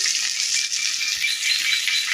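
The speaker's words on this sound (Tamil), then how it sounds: "வெங்காயம் வதங்கட்டும்" Steady hissing sizzle of onions sautéing in hot oil, bright and continuous with a faint crackling texture, close by and without talk.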